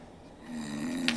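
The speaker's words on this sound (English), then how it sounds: "I can still hear this level of snoring." Steady low snoring heard through protective ear muffs, a continuous droning tone that grows slightly louder toward the end, with a couple of brief bright hiss bursts near the close and no talking.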